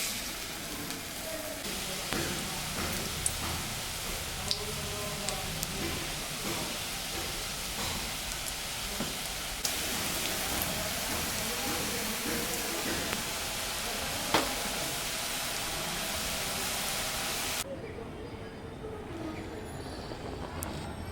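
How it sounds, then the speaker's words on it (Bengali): Grated carrot pakoras frying in hot oil give a steady, faint sizzling hiss with small crackling pops scattered throughout, continuing evenly before dropping to a quieter bubbling near the end. "তেল গরম হয়ে গেছে, এখন আমি পকোড়া ভাজব।"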